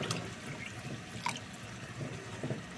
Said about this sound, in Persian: آب اضافه میکنیم.